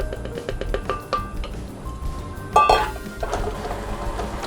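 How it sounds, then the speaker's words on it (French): Butter and caster sugar being mixed together in a mixer bowl for a galette des rois, with a steady churning and scraping, occasional metallic clinks against the bowl and a brief louder rattle partway through. "Et on mélange de façon à avoir quelque chose qui soit homogène."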